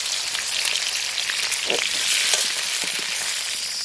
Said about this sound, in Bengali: আলু ভাজা হয়ে গেছে, সুন্দর একদম মরমরে ভাজা হয়েছে, মুচমুচে